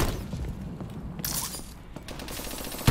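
Rapid gunfire from Call of Duty: Advanced Warfare crackles steadily across the whole stretch, dense bursts sounding close and continuous with a sharp hit at the very end.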